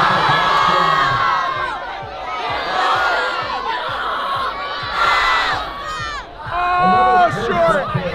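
Stadium crowd at an NFL game heard from the field side, a loud dense roar of shouting and cheering voices rising and falling, with nearby people talking over it.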